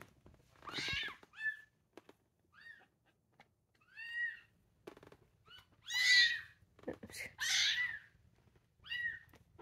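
Small kittens meow again and again, high thin cries spread across the stretch in short separated bursts, close by and fairly quiet, with no talking over them.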